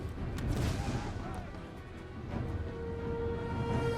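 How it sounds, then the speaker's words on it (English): Grenade blasts in the war game Austria All Out War, heavy booming explosions and rumbling battle noise running continuously through the clip, loud and close, with a tonal hum mixed in. "I think I got myself with some of my own grenades."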